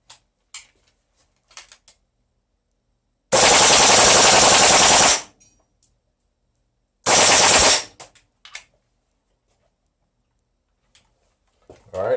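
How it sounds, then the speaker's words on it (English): Airsoft gas blowback rifle firing two loud full-auto bursts, each a dense rapid rattle of about one and a half seconds, with a few faint clicks and handling noises between them. "so now we're going to do a full auto with the gas blowback"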